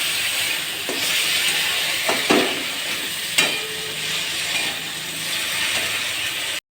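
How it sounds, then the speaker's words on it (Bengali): Ginger-garlic paste sizzles steadily in hot oil in a pan, cooked for chicken kosha after onions have browned, with a few louder scraping stirs breaking through the continuous frying hiss. "এরপর আমি আদা রসুন বাটা দিয়ে দিলাম। এরপর আমি একটু ভাজতে থাকবো।"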